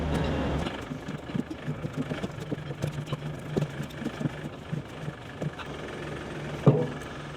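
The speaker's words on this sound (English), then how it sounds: "Let's move the tractor up." A tractor engine runs as it moves, with a mid-pitched diesel-like drone carrying on steadily under irregular clunks and knocks, moderately close.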